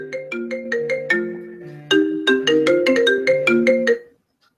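A melodic phone tone plays loud and close while a call is being placed, two quick runs of bright chiming notes separated by a short gap, then it stops abruptly.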